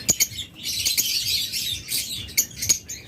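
Caged pet birds such as lovebirds, budgerigars and cockatiels chirp and squawk close by, with a dense, continuous twittering chorus broken by sharper individual calls and no talking.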